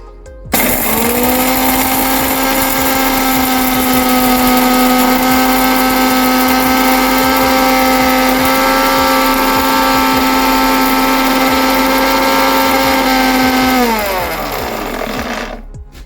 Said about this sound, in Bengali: এই যে মশলাটা সব হয়ে গেছে রোস্ট করে, এবার এটাকে আমি গুঁড়ো করে নেব।